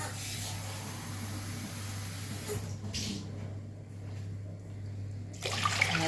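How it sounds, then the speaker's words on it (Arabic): Ordinary tap water running from a faucet into a drinking glass, a steady soft hissing stream with a hum beneath that briefly drops away and then resumes; no speech. "غندير 3 منه الماء من الصنبور عادي."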